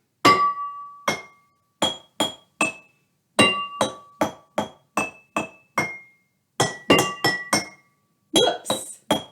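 A pencil tapping glass jars in short pentatonic phrases, bright ringing clinks struck one at a time in uneven groups with short pauses between phrases, clear and close.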